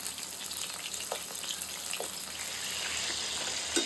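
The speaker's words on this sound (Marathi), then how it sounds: "मस्त आता हे तळून घेऊया" Soya chunks coated in cornflour fry in hot oil with a steady, close sizzling hiss and a few faint bubbling pops.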